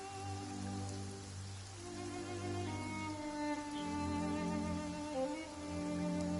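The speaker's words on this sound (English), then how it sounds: "Quite a downpour. Nothing will get done until it clears." Heavy rain pours down steadily in Genshin Impact, a constant dense hiss of drops on surfaces lasting throughout, with a soft melodic music bed playing underneath.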